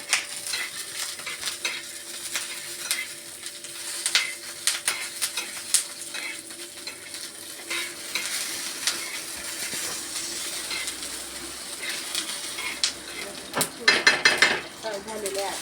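Spatula stirring and scraping through frying food in a pan, with a soft continuous sizzle broken by clinks of metal on the pan, steady and close throughout.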